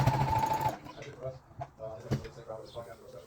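A domestic sewing machine stitches pieces of denim fabric together in a short, loud burst at the start, then leaves off for quieter handling noises and light knocks.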